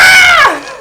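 A person screams a loud, shrill, wavering cry in imitation of a bird call, a single sustained shriek that slides downward and fades out in under a second.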